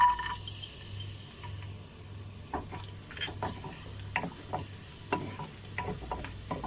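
Chopped garlic frying in two tablespoons of oil for a chilli chicken gravy: a faint steady sizzle with a run of close spoon scrapes and taps in the middle and later part, over a low background hum, with no talking.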